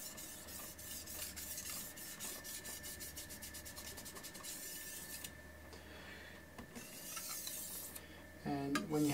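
Knife being sharpened on a King whetstone loaded with slurry, steady rhythmic rubbing strokes of steel on wet stone, close and continuous, with a brief louder scrape near the end.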